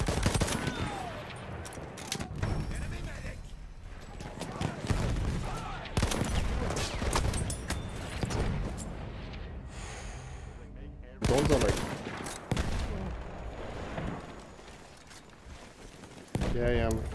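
Battlefield 1 battle with heavy bursts of automatic machine-gun fire and scattered shots, loud and close, sporting sudden sharp volleys throughout as a player talks over the chaos.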